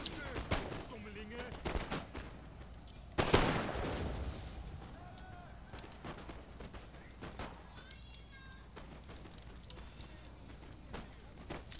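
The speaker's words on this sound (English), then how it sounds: "now a huge firefight is already going down" Musket firefight between line infantry and militia in the video game Napoleon: Total War: irregular crackling volleys and scattered shots, with one heavy burst partway through over a steady battlefield din.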